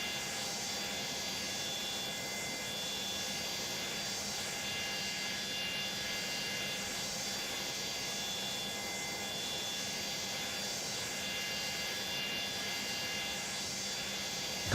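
A Boeing 727-200's number 3 engine spooling up in Microsoft Flight Simulator, a steady loud turbine whine and broadband roar with fixed high tones, continuous and unbroken throughout, no talk.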